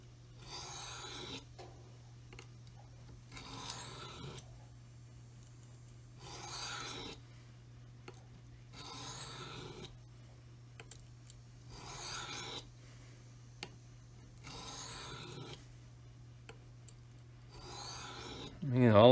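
A knife edge is stroked on a sharpening stone with light pressure, about eight evenly spaced rasping passes at close range, with a steady low hum behind them.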